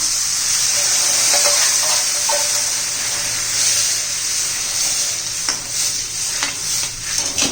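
Cooked dal poured onto sautéed green garlic shoots with turmeric in a hot pan, then stirred: a loud continuous sizzle with steam hiss and a few scraping spoon clicks, no voices.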